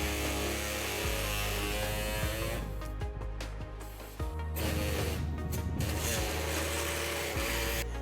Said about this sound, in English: I will be trimming this with an air saw today